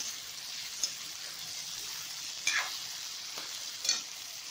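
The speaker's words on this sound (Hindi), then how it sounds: "मटर को भी थोड़ा सा इस तरह से भून लेंगे हम प्याज टमाटर के साथ में एक दो मिनट तक" Green peas being sautéed with onion and tomato in a pan: a soft, steady sizzle close by, broken by a few brief scraping stirs, with no talk.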